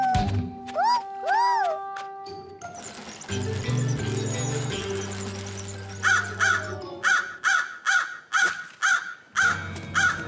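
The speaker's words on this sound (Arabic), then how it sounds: "يبدو أنها الغربان المفقودة" Crows from a Paw Patrol cartoon caw in repeated harsh calls, first a couple of rising cries, then a steady run of loud, evenly spaced caws after a stretch of music.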